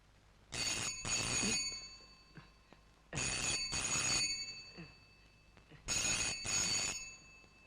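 A telephone bell rings in three clear double bursts, each a loud metallic trill, evenly spaced with quiet gaps between them.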